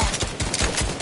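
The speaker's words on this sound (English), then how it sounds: "There's someone shooting me." Fortnite gunfire, a rapid burst of several close, evenly spaced shots crackling in quick succession over about a second.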